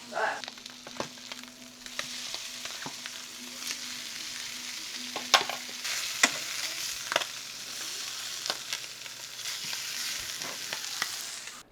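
Pieces of blacktip shark fry in butter in a pan, a steady close sizzle and crackle with occasional pops and stirring scrapes, continuous throughout without talking.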